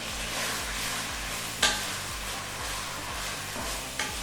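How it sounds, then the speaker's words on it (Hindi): Chopped green chilies and ginger garlic paste fry in hot oil, giving a steady close sizzle with rhythmic stirring scrapes and a couple of sharp utensil clinks. "इसको भूनें थोड़ी देर।"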